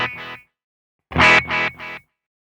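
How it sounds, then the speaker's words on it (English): A guitar amplifier's delay or echo effect plays two distorted guitar chords. The second chord repeats in two decaying echoes at an even rhythm, loud and close, with no talking. "Here's the delay or echo effect."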